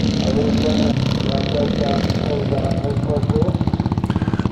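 Greeves scramble motorcycles race up a hill at a classic charity scramble in Northern Ireland, engines buzzing loudly and steadily with a pulsing rhythm near the end, under a commentator's voice.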